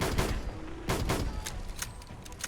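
A Smith and Wesson R8 revolver firing in Fallout 4, with several sharp, moderately loud gunshots in quick, uneven succession over a short burst, and no one speaking.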